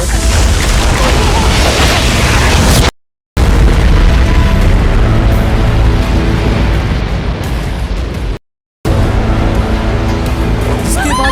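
A beam blast from the Solo Leveling anime erupts into heavy booming explosions with rumbling low roar, loud and sustained across the moment, broken by two brief silent gaps, with voices mixed in.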